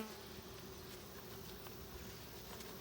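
A steady, dense hum of many bees buzzing together, continuous and fairly close, with no voices.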